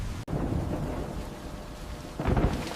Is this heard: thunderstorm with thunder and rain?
yes